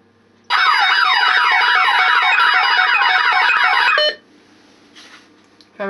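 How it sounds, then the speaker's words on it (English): An Optima XM burglar alarm siren, set off by its motion detector, blares loud and close for about three and a half seconds with a rapid warbling electronic tone, then cuts out to near silence. "now I'll set it off by the motion detector."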